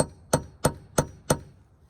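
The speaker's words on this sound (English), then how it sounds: "quick hammer at the breaker bar" Four sharp, evenly spaced metallic hammer strikes on a breaker bar fitted to a bolt on a Jeep Rubicon JL door, each a loud ringing clang with a quick decay, with no talk.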